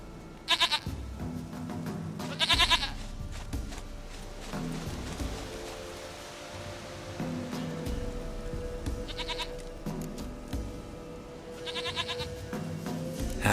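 A goat in The Witcher 3 gives several short bleats spread through the clip, some in quick doubled bursts, close and fairly loud, against a steady low in-game ambience.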